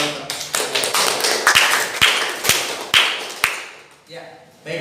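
A classroom gives a short round of applause after a dialogue practice lesson, a handful of sharp, separate claps spaced irregularly, close and fairly loud, with talk at the end.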